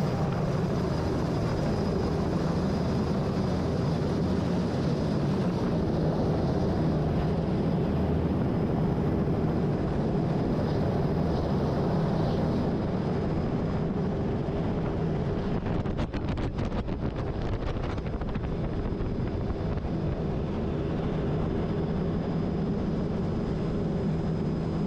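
A helicopter flies near a Texas lake, heard from on board as a loud, steady rotor and engine roar with wind buffeting, continuous throughout without speech.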